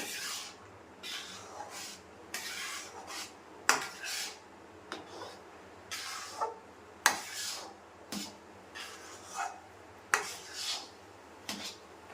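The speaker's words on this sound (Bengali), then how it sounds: "নাড়া দেব" Rice flour dough being stirred in a pan with a utensil: repeated scraping and knocking strokes in an irregular rhythm, close and clear, with no talk.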